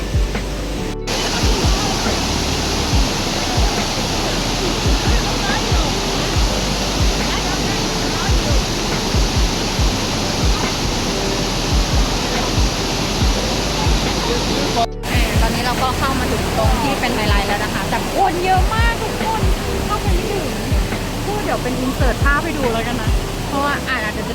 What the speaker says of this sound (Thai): นี่ตรงนู้นเลยน้ำตก